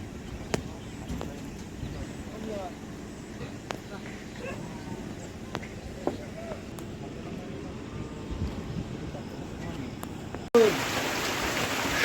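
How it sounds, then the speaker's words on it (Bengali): Rain falls steadily outdoors in the Sundarbans, a soft continuous patter with scattered drops heard at a distance. The sound shifts abruptly just before the end. "শুরুর আগেই বৃষ্টি শুরু হয়ে গেছে"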